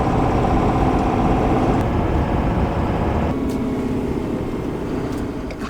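A 2018 or 2019 GMC 3500 pickup truck's engine rumbles in a steady, loud, broadband roar close by, with no voices over it.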